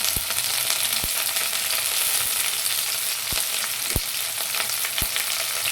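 Green chillies and curry leaves fry in hot oil with carrot pieces, a steady, loud, close sizzle broken by a few sharp clicks of stirring.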